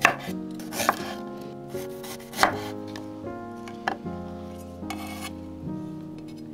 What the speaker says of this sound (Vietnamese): Gừng thì mình dùng khoảng 10g cắt lát.